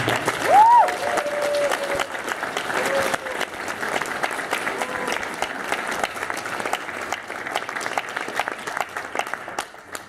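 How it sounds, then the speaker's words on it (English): An audience claps steadily at the Furlandia closing ceremony, a dense, sustained applause lasting throughout, with a voice briefly audible over it at the start. "So can I get a round of applause for RAIN?"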